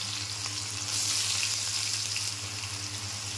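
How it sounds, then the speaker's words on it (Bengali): Cumin and onion fry in hot oil, a dense steady sizzle up close with a low hum beneath, slightly louder for a moment, no talk. "পেঁয়াজটা ছেড়ে দেবো।"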